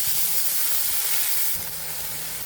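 Ground cumin and ginger paste hit hot oil with browned onions and garlic in a pan, giving a steady, bright sizzle and hiss that eases slightly partway through, close and without voices.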